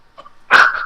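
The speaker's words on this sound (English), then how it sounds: "He's stepping on a dog." A dog gives one short, loud yelp as it is stepped on, preceded by faint snuffling, heard close and alone with no talk.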